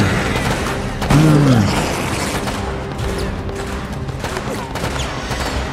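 Shotgun gunfire in the video game Resident Evil: Operation Raccoon City, heard as a dense burst of game combat noise with a loud blast near the one-second mark, continuing under a steady background of in-game sound effects.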